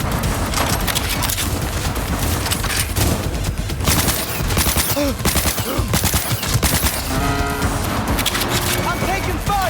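Dense bursts of automatic gunfire and booming shots in the Cyberpunk 2077 video game, near and loud, rattling almost continuously across the whole stretch with brief gaps and some voices mixed in.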